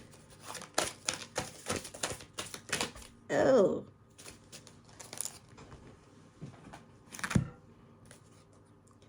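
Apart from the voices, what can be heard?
shuffling large tarot cards by hand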